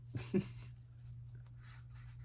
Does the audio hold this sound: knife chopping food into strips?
no